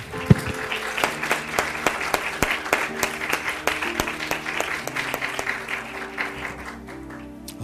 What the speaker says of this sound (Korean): 우리 하나님께 감사의 박수 올려드리겠습니다.